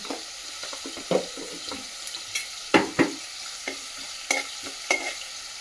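Mustard seeds, cumin and chana dal crackle and pop in hot oil for aloo beans curry, a steady frying hiss broken by scattered sharp spits and bursts, close and with no speech.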